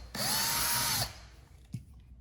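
A power drill runs in a steady high whine for about a second while drilling into a wall to mount an articulating TV bracket, then stops, followed by a faint knock in a quiet room.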